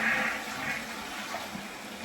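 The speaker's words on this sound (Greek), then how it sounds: "Πατάμε το καζανάκι για να φύγει το νερό, να μην έχουμε άλλο νερό μέσα." A toilet cistern flushes during a leak repair, giving about two seconds of steady, close rushing water as the tank drains, with no talking.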